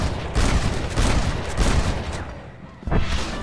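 Dense gunfire from many shooters in Red Dead Redemption rattles on as overlapping shots, then a short lull and a fresh burst near the end.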